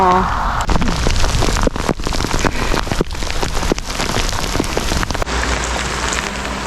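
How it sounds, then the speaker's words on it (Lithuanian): Hail and heavy rain pound down in Latvia's Latgale region, a dense, loud, steady hiss that fills the whole stretch with close-up patter and occasional sharper hits. "Ledais, duoda ledais."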